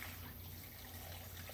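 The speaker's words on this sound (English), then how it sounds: "This is the ingredients, and then the apple cider vinegar. So we're going to pour that" Apple cider vinegar pours into a jar of fire cider ingredients, a faint continuous trickle of liquid over a low background hum, steady throughout.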